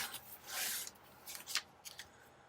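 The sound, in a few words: cutting paper for a journal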